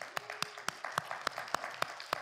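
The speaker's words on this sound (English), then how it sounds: "everybody in the church just clapped for you" Congregation clapping in a church during a Sunday worship service: a sparse, irregular run of separate claps, about eight distinct hand claps over two seconds, fairly quiet and without talk, more like scattered individuals than a full ovation.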